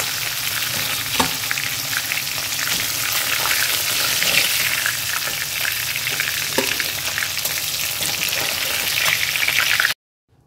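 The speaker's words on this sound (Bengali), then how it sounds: "খুব ভালো করে মাছটাকে ভেজে নিতে হবে।" Katla fish pieces fry in hot oil with a dense, loud, continuous crackling sizzle and occasional spatters and stirring knocks, close and unbroken until an abrupt cutoff near the end.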